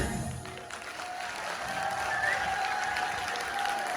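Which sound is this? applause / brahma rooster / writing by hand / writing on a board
applause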